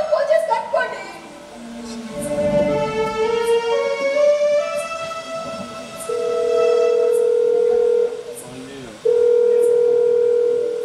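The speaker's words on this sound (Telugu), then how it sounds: "ఒకసారి ఫోన్ చేస్తాను" A telephone being dialed for a call: a few short tones, then long steady beeps like a ringing tone repeating near the end, with music playing underneath.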